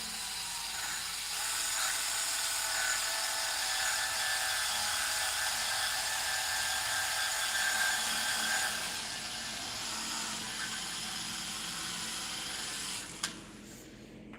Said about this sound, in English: Just scuffing this whole pipe up.